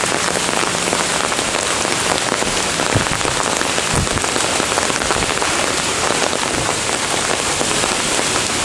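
Steady, loud rain falls on a city street, a dense, even hiss of drops hitting pavement with a few heavier splats, and no one talks.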